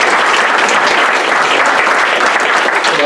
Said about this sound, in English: so we should all applaud that